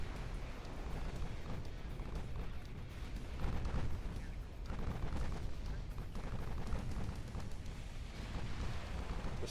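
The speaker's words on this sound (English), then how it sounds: "That was an 11-inch gun hit on that destroyer." Naval guns fire on a destroyer in the warship game Ultimate Admiral Dreadnoughts, with dense rumbling barrages and overlapping distant booms rolling continuously and no clear single shot, under a voice talking.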